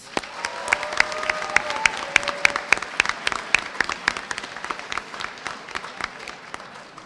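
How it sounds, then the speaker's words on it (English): An audience at a high school Color Day ceremony applauds a departing staff member: a full wash of clapping with sharp individual claps standing out close by, some cheering mixed in, tapering slightly toward the end. "let's give Mr. Gary Debenzo another round of applause"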